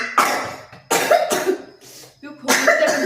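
A young girl coughs in bursts, three or four harsh coughs spread across a few seconds, close and fairly loud with short pauses between.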